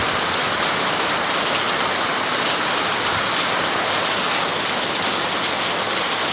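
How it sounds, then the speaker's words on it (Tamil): Heavy rain pours steadily over a village, a dense, unbroken wash of hiss and patter that stays close and loud from start to finish with no voices. "வேகமாக பெய்யுதுங்க."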